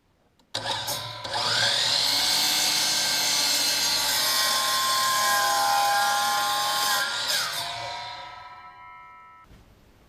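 A piece of scrap oak, left over from chopped firewood, is trimmed into a wedge with a power tool, giving a loud, sustained cutting whine for most of the stretch before it cuts off near the end.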